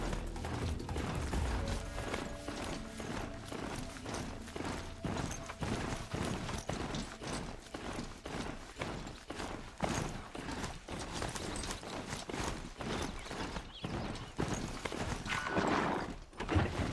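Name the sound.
horse-like machines walking, from the video game Horizon Zero Dawn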